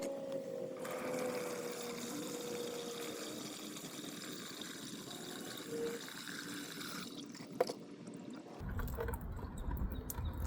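Muddy soil water pours steadily through a fine mesh screen, a continuous close trickling wash that fades out before a short knock and some faint handling noise at the end.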